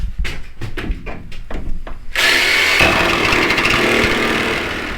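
A jigsaw cutting a window opening in the metal side of a VW Crafter van during a conversion. A few sharp knocks and taps come first, then the saw starts with a loud, harsh, continuous buzzing rasp close by.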